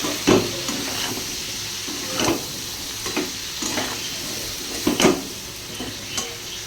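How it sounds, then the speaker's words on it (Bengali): Pumpkin, vegetable stems, potatoes, green chillies and turmeric sizzle in a pan while a spatula stirs them, with a steady frying hiss and sharp scraping clinks against the pan every second or so. "এবার কুমড়ো দিয়ে দিলাম, দুটো কাঁচা লঙ্কা কেটে দিলাম, আর হলুদটাও দিয়ে দিয়েছি। ভালো করে দিয়ে কষিয়ে নেব।"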